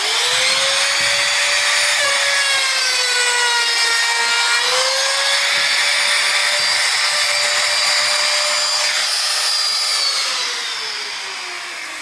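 Router running in a purpose-made jig, cutting out old window putty: a loud, continuous high-pitched motor whine with shifting tones as the bit bites, steady for about ten seconds before winding down slightly at the end.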